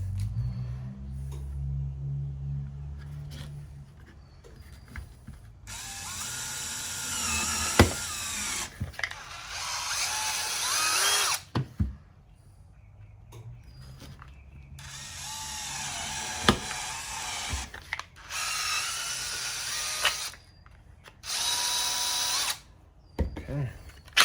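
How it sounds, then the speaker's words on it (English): A power drill bores holes into a holster workpiece in repeated loud, high-pitched bursts of several seconds each, separated by short pauses and small handling clicks, close up. "I'll go ahead and drill it."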